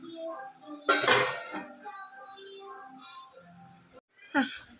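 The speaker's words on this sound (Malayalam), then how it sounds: "നമ്മൾ വേവാൻ വെച്ചിട്ടുണ്ട്. അത് നോക്കാം. ഇളക്കി കൊടുക്കാം." Stirring chicken curry in a cooking pot, with a loud metallic scrape and clatter of a spoon against the pot, then a shorter knock, heard under a faint background voice.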